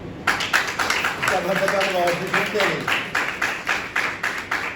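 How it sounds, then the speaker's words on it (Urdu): A church congregation clapping in steady, quick rhythm during a sermon, the claps close and even, with a voice speaking over them. "یہاں تالی بنتی دینا"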